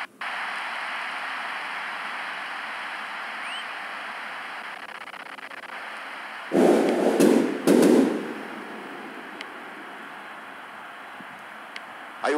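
A firework rocket set off by a football fan during a Santos versus Grêmio match, heard as a loud rushing burst of crackling blasts lasting about two seconds over a steady background hiss, then fading to quiet.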